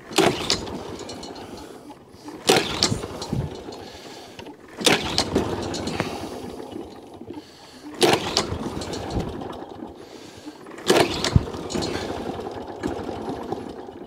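A Active 5800 lawnmower's small engine with auto choke cranks repeatedly, several pull-start attempts sputtering and revving briefly before dying back down, close and loud.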